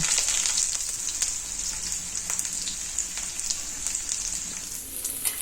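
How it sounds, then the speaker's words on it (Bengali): Chopped onion and slit green chillies fry in hot mustard oil in a kadai, giving a close, steady bright hiss dotted with small crackles and pops, with no voices. "তেল গরম হলে পেঁয়াজ কুচি আর দুটি কাঁচা লঙ্কা চেরা দিয়ে দেব"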